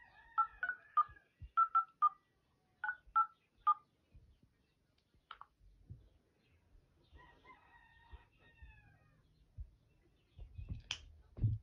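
Telephone keypad DTMF tones as a phone number is dialed, a quick run of clear beeps in short groups, followed by quieter rustling and soft handling noises.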